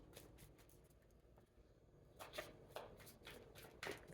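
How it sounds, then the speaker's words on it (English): Soft riffling of cards being shuffled, a few quick ruffles close by and fairly quiet, with no talking. "3 shuffles and then the bottom of the deck."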